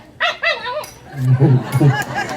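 A person imitates a puppy's voice with a few high whiny yips, then lower voiced sounds, close and loud, at a fish market festival in Masan.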